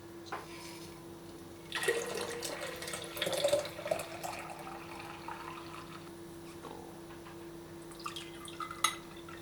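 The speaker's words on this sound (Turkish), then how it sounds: "Üzerine de su ilave edeceğim şimdi." Water pours into a thick sour cherry concentrate, a gurgling stream that starts after a quiet moment, runs for a few seconds, then tapers into faint drips and a small clink.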